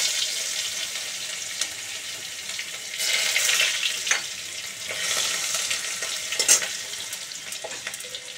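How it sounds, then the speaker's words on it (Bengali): Garlic sizzles in hot mustard oil for a spicy loitta fish curry: a steady, close, bright frying hiss that swells in waves with a few small pops, and no voices. "সর্ষের তেলটা গরম হলে পেঁয়াজ রসুন ভাজবো।"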